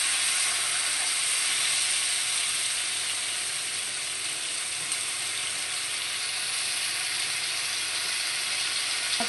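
Green chillies and a small tomato sizzle in hot oil in a pan for bhetki fish curry, a steady bright frying hiss that runs continuously and loudly without pause.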